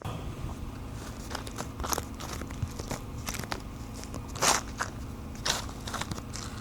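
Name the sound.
squeezing an old, crunchy tube of body filler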